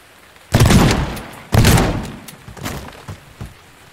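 Two loud shotgun blasts from the video game Teardown, about a second apart, each with a booming tail, followed by a few softer thuds and knocks.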